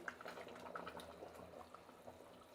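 Hot, boiling water is poured into a large pot of mutton biryani, giving a quiet, continuous splashing and bubbling fill.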